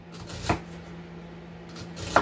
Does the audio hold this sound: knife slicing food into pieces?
yes